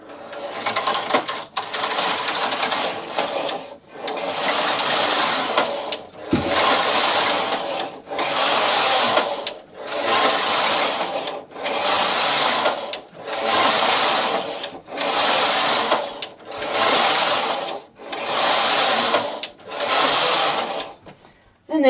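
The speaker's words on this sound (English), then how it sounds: "watch this area here as I continue knitting." A Singer knitting machine fitted with a lace carriage knits lace, its carriage sweeping back and forth in steady, loud rhythmic passes with brief pauses between rows, close up and alone.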